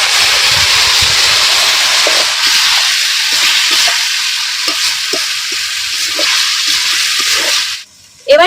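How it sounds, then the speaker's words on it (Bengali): Marinated cauliflower pieces fry in hot oil with ginger and chilli, a loud, dense hiss and sizzle with scattered pops and spatters that fades, then cuts off into a short clatter at the end. "ভাজা ভাজা হয়ে গেছে, এবার এর মধ্যে দিয়ে দেবো মেখে রাখা ফুলকপিগুলো"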